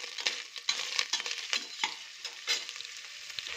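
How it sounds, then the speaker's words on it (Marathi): Jaggery being sautéed with coconut, raisins and almonds in a pan, close irregular stirring scrapes over a soft sizzle, with no talk. "आता यामध्ये एक छोटी वाटी गूळ ॲड करूया छान गूळ पण असं परतून घेऊया"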